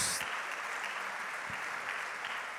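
A church congregation claps together in praise, a steady wash of applause at moderate distance that continues evenly throughout.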